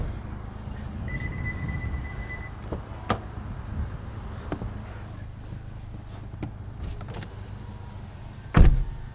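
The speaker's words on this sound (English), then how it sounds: "Roll down our windows, give it a few revs." Power windows whir down inside a 2023 Honda Civic Type R with a muffler delete, a faint motor hum under low cabin rumble, with a few small clicks and a sharper knock near the end.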